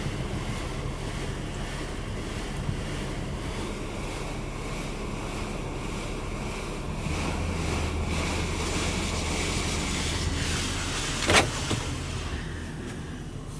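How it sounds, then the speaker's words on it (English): Spot-free rinse water sprays steadily inside a D&S 5000 automatic car wash in Lake Ozark, Missouri, a continuous broad hiss and rumble, close and even, swelling slightly midway with a brief click near the end. "Spot-free rinse, look at that."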